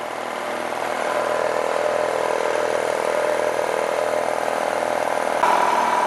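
Electric motor of a belt-driven air compressor running as it builds pressure, a steady loud droning whir that holds evenly for several seconds, with a slight shift in tone near the end.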